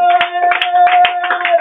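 A church congregation claps in a brisk, rhythmic burst, loud and close, with a sustained tone ringing beneath the applause.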